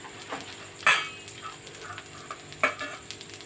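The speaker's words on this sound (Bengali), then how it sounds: "আমি একটুখানি পেঁয়াজটা ভেজে নিয়েছি" Onions frying in oil in a pan, with a low sizzle interrupted by two sharp scraping knocks of a spatula stirring them, alone and fairly near.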